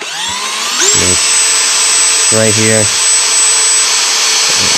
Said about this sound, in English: I'm gonna use the same drill I was using to clean the pan